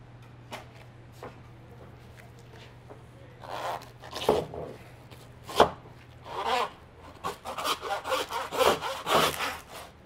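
A hand saw works through an elk sirloin bone in short rasping strokes that start faint and sparse and then grow louder and quicker toward the end, over a low steady hum.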